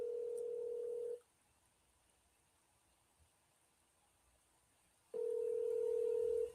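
Telephone ringback tone on a call, a steady loud tone for about a second, a long silent gap, then the tone sounding again near the end, with no voices.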